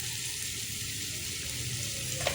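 Chopped onion and tomato fry together in a pan for an egg masala, giving a steady, close sizzle with a faint clink near the end and no talk.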